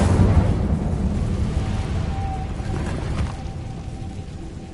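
A fire spell cast in Hogwarts Legacy, a soft whooshing burst of flame with a low rumble that fades over a few seconds, moderately loud with no talk.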